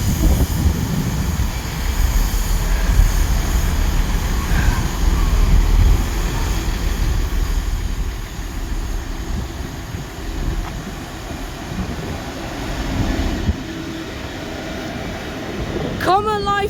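A Great British Rail Freight train passes on a rail line near Radley or Oxford, England. It gives a steady, loud, broad rumble and roar that holds for the whole span, with a sharp squeal right at the end.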